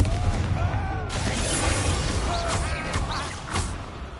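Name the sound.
Confringo explosion spell cast in video game Hogwarts Legacy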